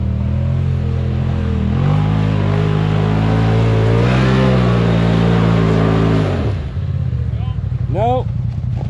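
A UTV engine revs hard on an icy winter trail, a loud, close, sustained growl that climbs and holds before dropping to a rough idle, with voices talking over it near the end.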